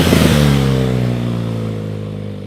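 An adventure touring motorcycle engine, a BMW GS, revs loudly up close, then its harmonic tone falls and fades steadily over a couple of seconds.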